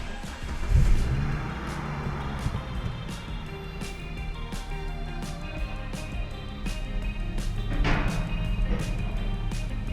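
A 1997 Volvo 850 with a five-cylinder engine idles and runs with a low, steady mechanical rumble, a couple of brief revs lifting the tone, heard close from inside the car.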